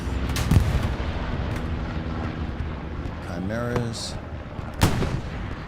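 Heavy booms from a bombing run and artillery fire in the WWII shooter Hell Let Loose, during a competitive match on Sainte-Mère-Église, with two loud blasts several seconds apart over a rumbling battlefield and a short spoken word between them.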